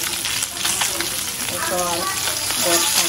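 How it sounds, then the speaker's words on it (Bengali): Two pieces of fish sizzle steadily in a hot home-kitchen pan, a continuous close crackle and hiss with occasional soft clatter, as if the fish is being turned or stirred. "আর সেই জন্য 2 পিস মাছ ভাজছি,"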